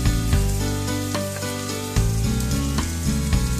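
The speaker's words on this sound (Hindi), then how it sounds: "अब मैं एक एक करके इसमें सारी सब्जियां डालूंगी।" Cauliflower, capsicum, sweet corn, peas and baby corn for a pizza topping go into a hot pan, a loud steady sizzle with several sharp clatters as pieces land and get moved, accompanied by a low tonal hum and no talk.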